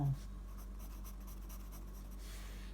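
A pencil shades in part of a drawing on paper in a classroom lesson, a faint rapid scratching of quick strokes over a low steady hum.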